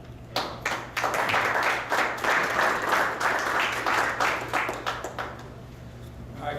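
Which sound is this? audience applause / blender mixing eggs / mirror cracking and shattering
audience applause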